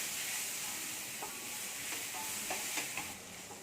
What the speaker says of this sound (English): fry this along with onions